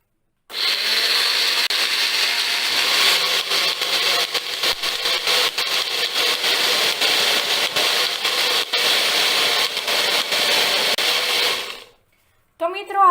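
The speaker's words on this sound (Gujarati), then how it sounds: "પાછું બંધ કરીને આપણે પીસી લેશું." Mixer grinder whirring loudly as it grinds garlic and tomato chutney with hot green chillies, a steady motor roar lasting about eleven seconds before stopping abruptly, with a brief rattle at the end.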